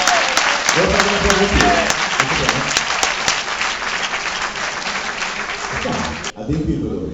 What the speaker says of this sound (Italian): un grande applauso ancora a Marchiso